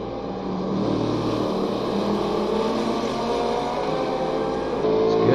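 Big Ford V8 race car engine during a racing game event at Donington: a steady, loud, droning engine roar that holds throughout, close up and unbroken, with no talk.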